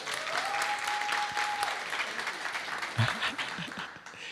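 An audience at a music conference panel applauds steadily, a dense, moderately distant wash of clapping that holds for several seconds and slowly thins near the end.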